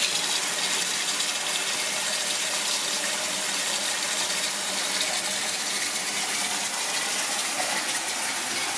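Tap water gushes steadily into a kitchen pan to cool it while cooking a shrimp cocktail starter, a continuous loud hissing splash close by with no pauses.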